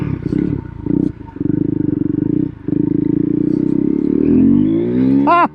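A Husqvarna 401 Svartpilen single-cylinder motorcycle with an aftermarket exhaust pipe, loud and close, its engine burbling and blipping through short revs before climbing into a rising rev.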